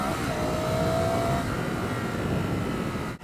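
Ducati Scrambler Sixty2 400cc motorcycle under way, its engine a steady broad roar with a faint rising whine and heavy wind rush, loud and continuous before a brief dip at the end.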